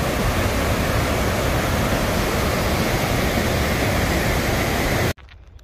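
Rushing water of the Spokane River, a dense, constant roar of whitewater up close that cuts off abruptly near the end, leaving near silence.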